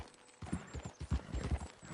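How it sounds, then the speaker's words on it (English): Horse hooves clip-clop in Red Dead Redemption 2, a quick, steady run of soft thuds heard fairly faint and on their own. "Is that a horse?"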